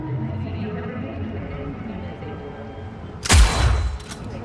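Gunfire in Cyberpunk 2077 erupts late as a sudden loud burst of shots over quiet game ambience, fading quickly.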